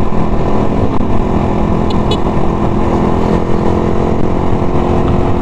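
A Suzuki Raider 150 motorcycle engine runs at a steady idle, close and loud, with a constant low rumble and no revving or talk.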